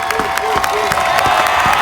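Street demonstration crowd in Winston-Salem cheering and clapping, a loud, dense roar with rhythmic claps and shouting voices close by.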